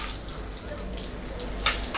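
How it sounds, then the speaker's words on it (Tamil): Peanuts and roasted gram dry-roasting in a pan for masala pori, giving a low steady rustle and faint crackle with a brief sharper scrape near the end. "வேர்க்கடலை எல்லாத்தையுமே போட்டு நம்ம நல்லா வறுத்துக்கலாம்."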